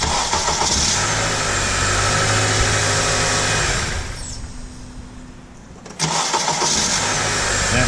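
After a starter repair, a 2008 Honda Odyssey engine cranks and catches, runs loudly for several seconds, then drops away into a quieter lull before the engine cranks again with a sudden restart.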